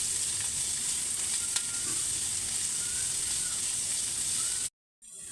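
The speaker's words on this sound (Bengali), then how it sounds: "পেঁয়াজটা হালকা একটু নেড়ে আমি টুনা ফিশ দিয়ে দেবো" Onion sizzles steadily in hot oil in a pan for a tuna dish, a continuous bright frying hiss with a faint stir or two, cutting off abruptly near the end.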